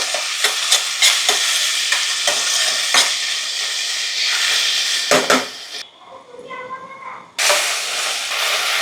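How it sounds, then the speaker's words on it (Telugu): Chopped tomatoes and onions frying in oil are stirred with a spoon, giving repeated scraping clinks against the pan over a continuous sizzle, which briefly drops away before returning loud and close. "ఈ టమాటాలు కూడా కొంచెం మగ్గాలన్నమాట ఆయిల్లో"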